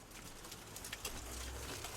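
Pigeons recently out of quarantine cooing, soft low murmuring calls heard faintly and close amid a quiet room hum, with a few brief rustles.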